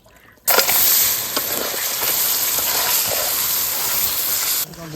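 Crab sizzles loudly as it is sautéed in a pan, a steady hot frying hiss that starts abruptly and holds for several seconds with faint stirring clatter, then cuts off.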